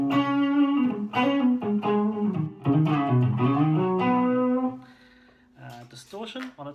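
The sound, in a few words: electric guitar with overdrive effect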